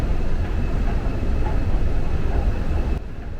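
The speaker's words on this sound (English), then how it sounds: "we are now exiting the Woodley Park subway station" Washington DC Metro train rumbling steadily inside Woodley Park subway station, a loud continuous roar with a faint tone that drops off sharply near the end.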